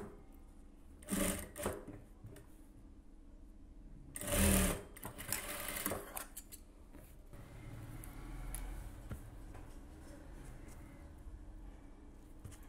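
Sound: sewing machine stitching a blouse

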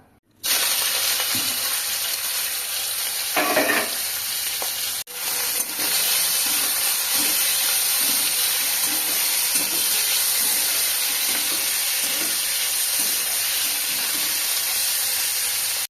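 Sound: prawns frying in oil in a pan

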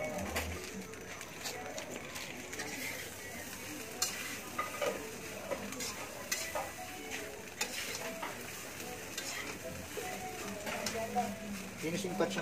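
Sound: stirring fried rice (sinangag) in a pan

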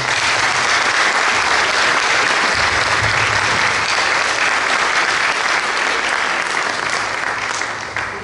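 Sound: applause for a panel

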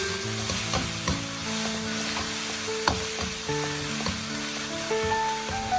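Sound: stir-frying river snails with chili bean sauce

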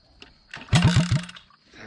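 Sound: mini motorbike engine starting

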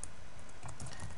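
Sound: typing on a computer keyboard

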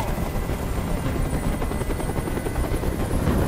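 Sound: helicopter in a video game

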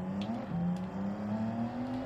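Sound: race car engine revving in Gran Turismo 7 video game

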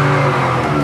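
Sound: 1970 Chevelle SS burnout on new Mickey Thompson tires

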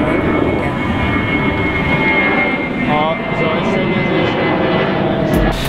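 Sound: airplane taking off over residential area, Ferihegy airport

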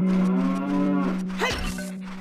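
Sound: cow mooing in video game Zelda Ocarina of Time

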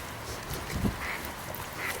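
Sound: duck quacking

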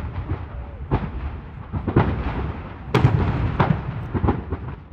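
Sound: explosions from an industrial fire

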